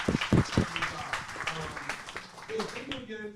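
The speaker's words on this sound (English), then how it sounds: "I want to give a huge round of applause." An audience claps at an upfront event, brief scattered applause under a speaking voice, fairly quiet and close.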